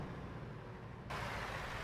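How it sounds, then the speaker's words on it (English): A truck engine drones low and steady in American Truck Simulator, then a brighter hiss of road and wind noise suddenly joins in and keeps going without any talk. "Nice truck noises."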